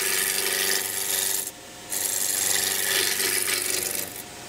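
Wood on a lathe gives a loud, continuous scraping rasp from a cutting tool making a forward cut, breaking off briefly and then resuming, close by.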